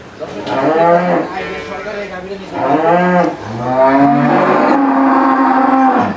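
Jersey dairy cows moo loudly and close by on a farm, three long drawn-out calls in a row with the last one held longest, and no talk over them.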